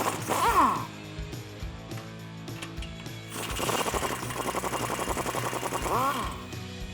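Loud, even ratcheting from an 18mm deep socket turns strut bolts on a 2004-2019 F150 during a lift kit install, with mechanical clatter and a voice heard briefly.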